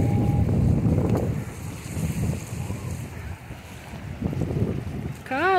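Low rumble of motorboat engines on open water near Ilha do Cardoso, Cananéia, Brazil, with wind buffeting the microphone, the drone swelling and fading as craft pass by.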